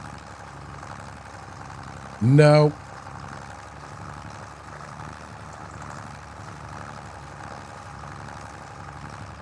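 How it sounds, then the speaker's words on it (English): A tractor engine idles with a low, steady, even hum in the background, fairly faint. A single brief spoken word cuts in near the start. "I heard his tractor running"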